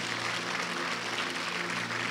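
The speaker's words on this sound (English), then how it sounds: "Clap for Jesus." Dense, steady applause from a church congregation on Easter Sunday fills the space, continuous and even without pauses or voices standing out.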